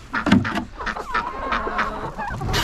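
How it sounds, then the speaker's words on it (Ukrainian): Chickens, geese and ducks call together on a farm near pots of mash cooked for the livestock. The clucks and honks come in quick, overlapping bursts, loud and close in a busy yard. "Курочки, гуси, качки, все тут. Кричаться."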